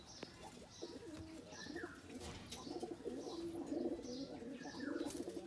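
An Indian Kaldom pigeon coos softly in repeated rolling phrases, close by and fairly quiet, with a few faint chirps from other birds around it.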